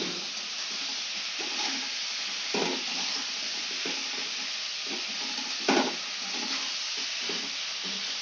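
Chilli chicken frying in a pan while being stirred, a steady broadband sizzle throughout with occasional louder scraping stirs and clatters, close and without talk.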